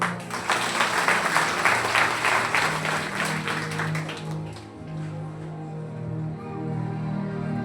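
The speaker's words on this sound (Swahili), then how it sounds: "Tupige Yesu makofi." A church congregation claps at a Sunday sermon, a dense burst of hand applause that runs for about four seconds and then fades out, leaving a low murmur.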